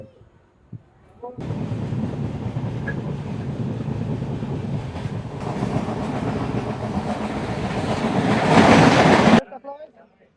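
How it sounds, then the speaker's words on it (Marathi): A Konkan Railway train rumbles along the rails in a continuous loud roar with wind noise, swelling toward the end before cutting off abruptly. "ट्रेन पण रवाना झाली आहे क्रॉसिंग नंतर"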